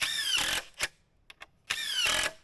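A power drill drives screws into a board of a raised garden bed: two long, loud, close whirring bursts with rising whine, and a few short clicks and taps in the quiet gap between them.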